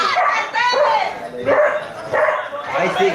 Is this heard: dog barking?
yes